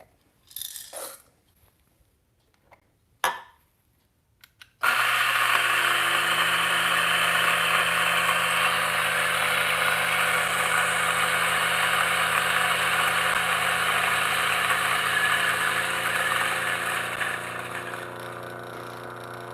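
An electric grinder grinds expensive coffee beans, a loud, steady whirring drone that runs continuously for about fifteen seconds after a few brief clicks and knocks, easing slightly near the end.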